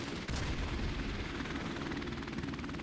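A helicopter in the Modern Warfare Remastered video game makes a loud, continuous thudding rotor drone with a sharp burst near the start, sustained throughout.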